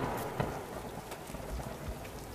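Rain pours down in a steady, dense hiss of drops hitting the ground, continuous and moderately loud with no voices.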